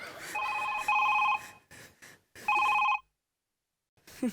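A landline telephone rings in two bursts of a bright double-tone electronic bell, loud and close, separated by a short gap, with brief speech and a little background noise around the rings.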